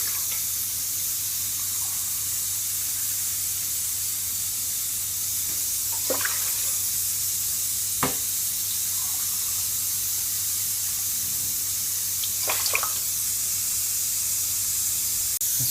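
Water pouring into a pot while cooking Iraqi yellow broth: a steady, continuous hissing stream, fairly close, with a few faint clinks and taps along the way and no voices.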